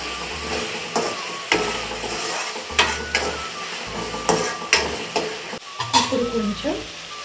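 Chicken curry with spices being stirred in a pan, a spoon scraping through the mix in repeated strokes over steady frying sizzle, close and fairly loud with no talking.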